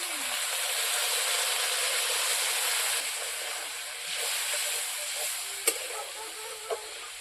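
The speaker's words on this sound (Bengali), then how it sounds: "এখন আমি হালকা একটু জল দিয়ে দেবো" Water hits frying cauliflower and potato in a hot pan, producing a strong broad hiss of steam and sizzle that stays steady and slowly eases, with a couple of sharp clinks near the end.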